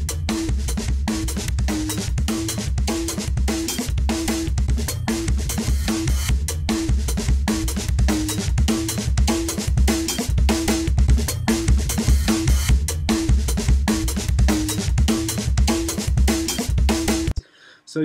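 A drum loop in Ableton plays steadily through a parallel compression chain, a heavily compressed signal blended with a clean one, with a punchy kick and a repeating bright cowbell-like hit driving a dense, continuous groove before it stops abruptly.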